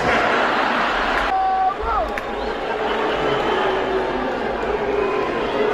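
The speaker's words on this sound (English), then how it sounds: "They just go right back to booing" Crowd at a Dave Chappelle comedy show booing Elon Musk, a broad steady roar of disapproval filling the room at constant loudness, with a brief shift partway through but no clear break.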